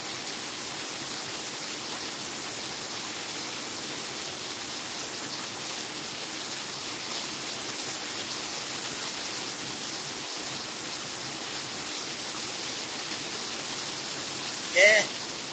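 Steady rain falls as a dense, even hiss that lasts throughout, loud and close, with a brief knock near the end.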